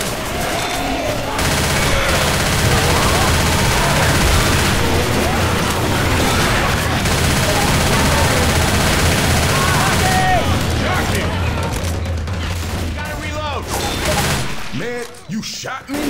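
Sustained gunfire in the Left 4 Dead 2 Dark Carnival coaster chapter, dense rapid shots and bursts overlapping for most of the stretch, loud and close, thinning out near the end with voices calling out between shots.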